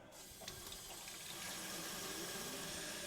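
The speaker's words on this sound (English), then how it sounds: "let's try the water pick. I'm gonna fill it up with water." Water runs steadily from a tap into the tank of a portable water flosser, a continuous close hiss that grows slightly fuller as the tank fills.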